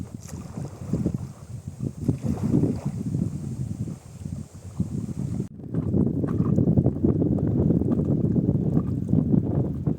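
Strong wind buffets the microphone on a lake while boating near an island, a steady loud roar that swells and holds, with no talk.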